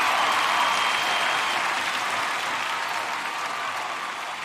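A crowd applauds and roars, a dense, loud wall of clapping that holds steady and eases slightly toward the end, with no voices over it.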